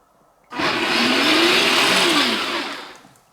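The electric motors of a Power Wheels 4x4 plow truck whir up suddenly into a steady, loud, buzzing drone with a slight rising and falling pitch, then wind down after about three seconds.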